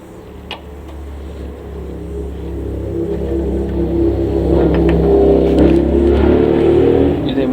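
An engine passes outside and rises to a louder, low rumbling drone that swells over several seconds, with a few small knocks and clicks nearby and no talk.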